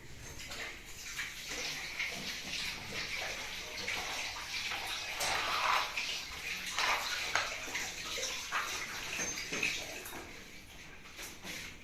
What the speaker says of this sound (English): I'm just going to proceed to wash my hands once again.